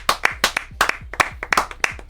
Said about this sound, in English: Can we give a little clap?